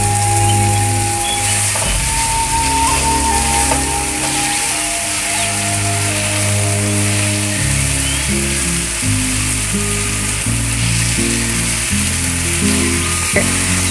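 Tomatoes and ginger-garlic paste fry in a pan for a fish pollichathu, a loud continuous sizzle and crackle running throughout, close up, with steady low humming tones beneath.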